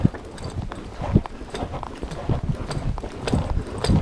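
A horse moves in a collected lope under a rider, its hooves striking in a steady, rhythmic pattern of close, distinct beats that continues through the whole stretch.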